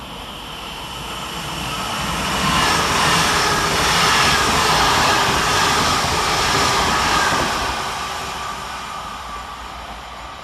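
A passenger train of two coupled Class 331 electric units passes through Moses Gate railway station in thick fog, a broad rumbling roar that swells, holds loud for several seconds, then fades.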